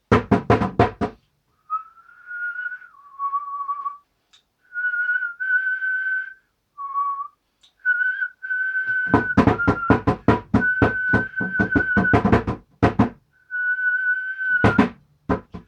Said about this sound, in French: Quelqu'un qui est capable de siffler, il est capable de reproduire à volonté le même son.